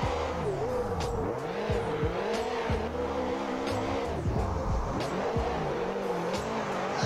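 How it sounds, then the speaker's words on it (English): A race car's boxer engine in the video game Assetto Corsa, a Subaru WRX STI GPT car, revs hard and continuously, pitch climbing and dropping through rapid gear changes, loud and close with no talking. "the boxer engine sounds mint"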